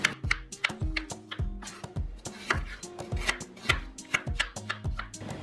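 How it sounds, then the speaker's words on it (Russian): Peeled, cored apples for a festive pie filling are cut into medium pieces with a knife on a board: a steady run of crisp, close chopping strikes over soft background music. "Режу их на кусочки среднего размера"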